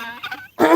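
A goose honks in two quick nasal calls close by, followed by a louder, harsher honk at the end.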